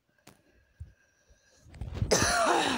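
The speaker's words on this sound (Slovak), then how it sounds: "Pardon, že z toho kašľam." A man gives a couple of short, dry coughs while streaming a mobile game, then loud, bright, sweeping game sound effects burst in and fill the rest of the moment.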